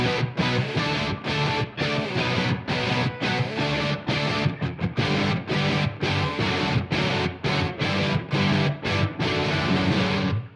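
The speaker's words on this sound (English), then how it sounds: "So the fact that all these guitars are playing different parts really helps create a wall of sound" Several distorted electric guitars stack different parts into a dense wall of sound, loud and continuous with steady rhythmic chops throughout, in a rock arrangement.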